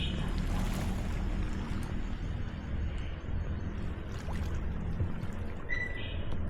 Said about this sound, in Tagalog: ito yung tabing dagat